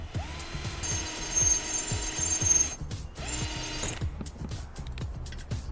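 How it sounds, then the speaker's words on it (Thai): A Hyundai HD 691H electric drill runs in bursts, its motor whirring with repeated ratcheting clicks as it drills, stopping briefly near three seconds before starting again for a shorter run with no talk. "แล้วเราก็กดเจาะได้เลยครับ"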